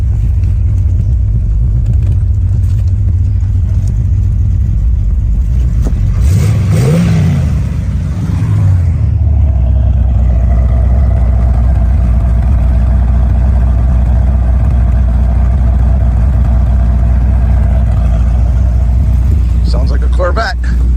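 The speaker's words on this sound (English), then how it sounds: "Sounds like a Corvette." A muscle car engine idles with a deep, steady rumble, then a throttle blip revs it up and back down before it settles into its loud, even idle.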